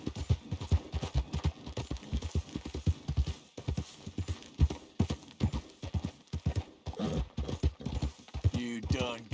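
Horse hooves in Red Dead Redemption 2 clip-clop in a steady rhythmic gait, close and clear, with a brief whinny near the end.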